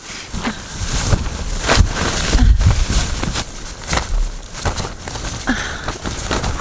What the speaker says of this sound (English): Oh, it's blowing sand in my eyes.